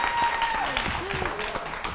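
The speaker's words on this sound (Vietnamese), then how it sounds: "Dành một tràng pháo tay khen tặng anh." A studio audience breaks into brief applause for a guest, a short burst of clapping under a speaking voice.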